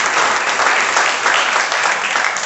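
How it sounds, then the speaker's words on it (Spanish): An audience at a deliverance seminar in Lakewood, New Jersey claps loudly and continuously, a dense close wash of applause with no break. "Un aplauso a los que emocionaron aquí"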